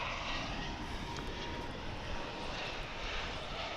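A jet airliner at DFW International Airport roars steadily and loudly overhead, a broad continuous engine rush with no talk over it throughout.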